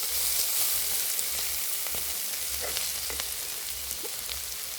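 Onions frying in a pan give off a steady, close crackling sizzle with scattered pops throughout, heard alone with no talking.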